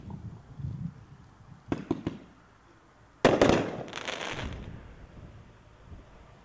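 Firework cakes go off at a dealer show, a few sharp thuds followed by a loud burst of crackling reports that trails off into distant fizzing and outdoor ambience.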